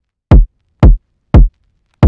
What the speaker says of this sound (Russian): Кик.